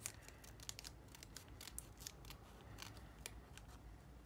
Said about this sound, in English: And then I'll use my little scissors,